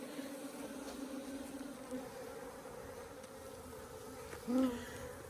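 Africanized honey bees buzz around an 8-frame hive set up after a removal from an arroyo, a steady low droning hum with one bee passing close and louder near the end.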